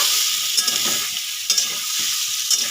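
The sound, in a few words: shukto vegetables being sautéed in a pan with water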